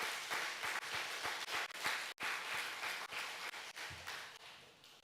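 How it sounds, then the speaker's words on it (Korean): A congregation claps during a Korean Methodist church service. The applause is sustained and fairly full, with distinct individual claps in a roomy, echoing hall, and it briefly dips before continuing. "그러면 박수 한번 쳐주세요, 여러분"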